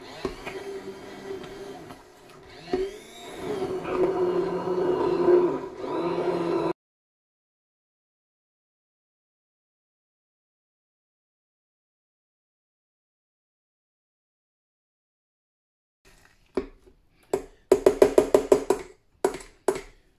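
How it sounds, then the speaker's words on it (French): An immersion blender purées cooked pumpkin soup. A steady motor whir runs for several seconds, falls silent for a long pause, then returns in short, loud bursts. "je prends le mixeur plongeon et on va venir mixer tout ça"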